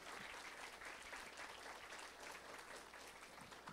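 An audience claps together in a sustained, even round of applause at an event honoring IT department helpers, a dense patter heard from a moderate distance with no voices on top.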